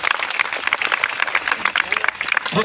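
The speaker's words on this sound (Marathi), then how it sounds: "त्या सगळ्यांसाठी जरा जोरदार टाळ्या वाजवा" An audience at an Adivasi Day event at Aarey Colony claps for the volunteers, a dense burst of many hands clapping with voices mixed in.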